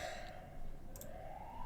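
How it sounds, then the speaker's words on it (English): A faint distant siren rises and falls slowly under a low background rumble, with a couple of soft clicks. "Are we done with the sirens?"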